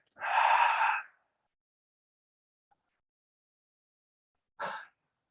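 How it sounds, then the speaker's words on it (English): A sharp, breathy gasp during a breathwork exercise, loud and close, followed after a silent pause by a shorter audible breath or exhale. "as you get the gasp, open up and then exhale again."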